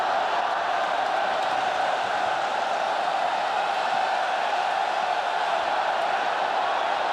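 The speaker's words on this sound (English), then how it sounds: "that out-of-sync cheering you can hear is the Mexican wave, of course, going around the stadium" Distant stadium crowd roaring during a football friendly between Kitchee and Manchester United in Hong Kong, a broad, steady wash of cheering with no clear peaks, faint and far off.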